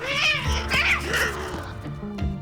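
Domestic cats on La Palma meowing and caterwauling, several drawn-out wavering yowls in quick succession, loud and close.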